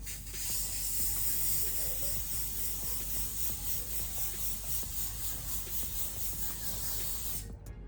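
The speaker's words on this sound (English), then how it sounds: "I drench myself in this spray." A continuous fine spray of makeup setting spray hisses steadily for several seconds, close and soft, pulsing slightly as the bottle is pumped, then cuts off at the end.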